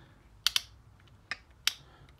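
A few sharp clicks from the ratcheting mechanism of a Swedish hand tool as its jaw is closed: a quick double click, then two more single clicks, close and fairly quiet, with no talk.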